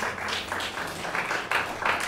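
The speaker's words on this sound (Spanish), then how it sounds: "Un aplauso para ella," A short burst of audience clapping during a church sermon, a brief ripple of hands applauding a woman in the congregation, moderately close and uneven.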